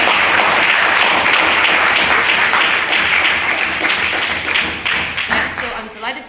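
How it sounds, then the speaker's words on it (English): At a debating society's Reformation debate, an audience gives a loud, dense round of applause for a former president and honorary life member, sustained before thinning out toward the end. "if everyone give him a round of applause"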